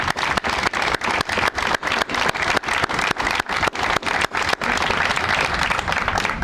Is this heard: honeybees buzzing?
no